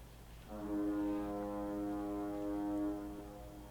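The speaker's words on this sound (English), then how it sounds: "Blowing on the horn. That's what you hear in the background." A large ship sounds its deep foghorn as it approaches a bridge near a disc golf course, one long, steady, loud blast held for about three seconds with a rich stack of low harmonics over a faint rumbling background.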